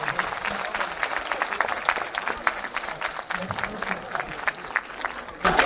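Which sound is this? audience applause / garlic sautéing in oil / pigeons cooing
audience applause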